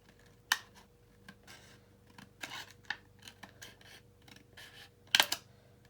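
Scissors trim packaging material for a customized baby-item package, making a few separate crisp snips and rustles up close with quiet gaps between the cuts.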